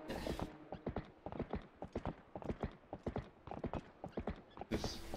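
Horse hooves clip-clopping in a Zelda video game on Wii U, a steady rapid rhythm of close, crisp hoofbeats running for several seconds.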